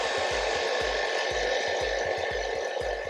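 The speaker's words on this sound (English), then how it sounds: "Let me try to dry it off by putting my hairdryer in the cold setting" A hairdryer on its cold setting blows a steady, close rush of air. Under the rush, a rapid, regular motor pulse runs, and no one speaks.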